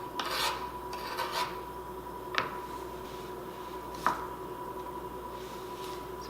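Knife blade slicing fresh garden radishes on a cutting board, giving steady rasping cuts with two sharper taps standing out, close and moderately quiet under a faint steady hum.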